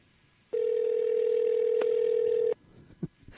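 An outgoing phone call sounds a single steady ringback tone lasting about two seconds, close and clear, followed by a brief faint click.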